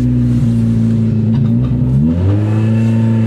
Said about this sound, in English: Throttle is sticking.